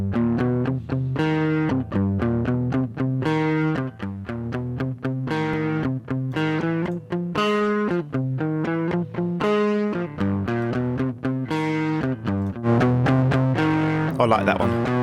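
Electric guitar driven through a distortion pedal setting on stage 1 of a Trash 2 multi-stage distortion module, playing a steady run of chords and single notes with a crunchy, saturated tone that sustains throughout.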